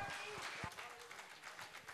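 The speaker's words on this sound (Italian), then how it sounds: "grande applauso." Theatre audience applause at the Teatro President in Piacenza during a song and poetry show, a brief burst of dense clapping with a voice over it.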